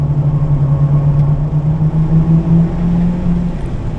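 Race car leaving the track in a high-speed turn at Pocono, its engine a steady loud droning hum with a slowly shifting pitch, heard alone.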